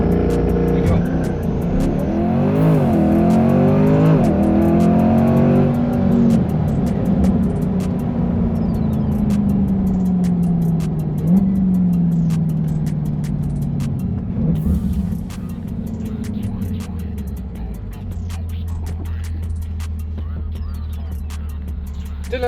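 A Liberty Walk Corvette is floored from a standstill, its V8 roaring loudly and climbing through rising gear sweeps before settling into a steady high-speed drone, with someone talking over parts of the run.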